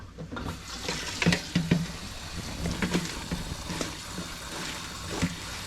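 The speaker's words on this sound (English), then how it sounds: "I'll lift it up, dump out the water, and then I'll rinse it again" Water dumped from a salad spinner and lettuce rinsed under a running tap in a sink, a close splashing pour with bursts of sloshing and rinsing, no voices.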